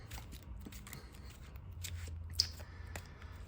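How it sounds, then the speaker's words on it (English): A deck of trading cards gets a quick shuffle, soft papery riffles and sharp snapping flicks close by, with a brief crisp snap partway through over a quiet background. "Get a quick shuffle going."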